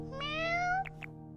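A single drawn-out cat meow from the video game Growth, rising then falling in pitch over a steady humming game background, followed by two brief softer noises.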